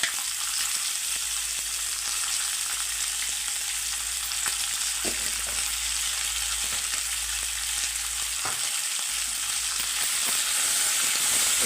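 Tomatoes cooking with garlic and tamarind in a pan for a tomato chutney give a steady, continuous sizzle and hiss, with a few faint stirring clicks and no talking.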